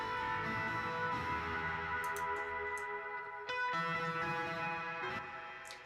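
A heavily effected guitar track from a song mixed in Logic Pro, drenched in pedal-board reverb with an added long hall tail, sustained harmonic tones washing continuously with a few percussive accents.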